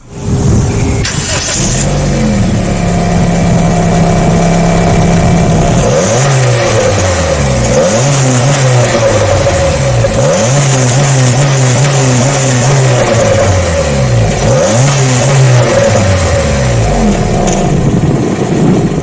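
Honda HR-V 1.5 engine revved repeatedly against its 4,000 RPM rev limiter, the pitch climbing and bouncing off the cutoff in a series of loud, close, repeating surges.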